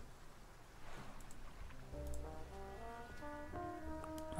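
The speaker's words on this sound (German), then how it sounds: "Ein Signalhorn." Irish signal horn blown in the video game Face Noir, a low sustained horn call that rises into layered tones over soft rain-like background hiss, fairly faint.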